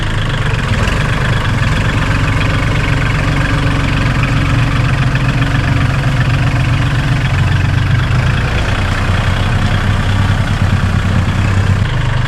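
A farm tractor's engine runs loudly and steadily while ploughing a field, a close, continuous low diesel chug with rhythmic knocking and vibration and no voices.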